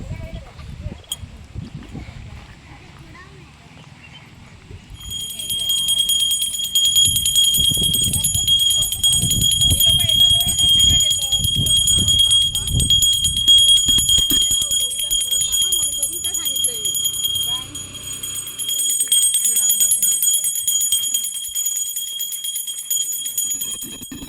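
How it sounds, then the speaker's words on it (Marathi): A hand bell rings continuously in the Konkan countryside as the goddess Gauri is carried home during Ganpati festivities, its bright metallic peals steady and close over a dense bed of crowd noise and talk. "आम्ही घंटी वाजवत वाजवत गौरी मातेला उत्साहाने आनंदाने घरी घेऊन जात आहोत"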